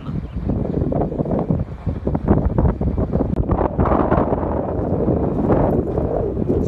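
Strong wind buffets the microphone on a mountaintop near a large wind turbine, a loud, continuous low rumble with gusty surges and no speech.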